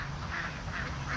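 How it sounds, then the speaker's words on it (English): A group of ducks nearby at a campground sends out repeated soft quacks in a steady rhythm beneath steady low background noise. "all the ducks are coming towards you"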